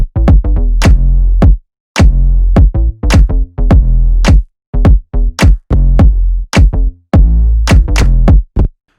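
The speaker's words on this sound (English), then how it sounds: "the bass together with the claps and the kick sound like this" Sub bass from a Serum sub preset layered with claps and a punchy kick drum, playing a groovy house-style beat in steady rhythm, loud and alone with brief gaps between phrases.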